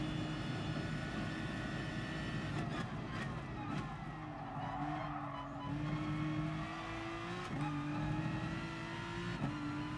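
A race car engine in the GT Sport racing game drones loudly and continuously, its pitch rising and dropping sharply through gear shifts, with tire squeal layered over the steady roar.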